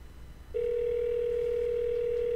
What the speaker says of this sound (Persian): صدای زنگ اینا رو میشنوی